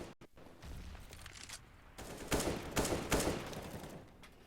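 Rapid bursts of gunfire in a competitive online shooter match, a player firing on his own teammate; loud crackling volleys come in clusters, with the strongest shots near the middle and end and a low rumble beneath.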